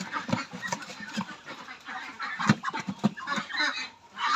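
Pekin ducks of about 3 kg each are handled for weighing on a farm in Kaliganj, Gazipur, letting out short, nasal clucking quacks in uneven bursts at close range.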